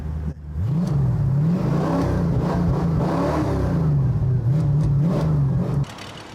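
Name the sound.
classic car engine natural exhaust sound, heard from behind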